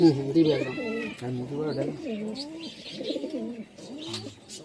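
Kalanka pigeons coo steadily in a village loft, a near and continuous warbling run of rolling calls, with someone talking now and then over them.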